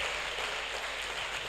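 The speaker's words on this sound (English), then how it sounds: "Please help me give her a round of applause." Steady applause from the audience at a Nigerian professional secretarial staff institute ceremony, a dense even wash of clapping filling the short moment with no voices on top.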